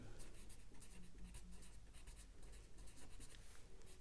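Chalk or marker scratching across a board during an English grammar class on future tense, a steady close scraping texture running throughout with no speech.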